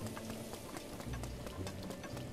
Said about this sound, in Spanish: ahorita que está lloviendo más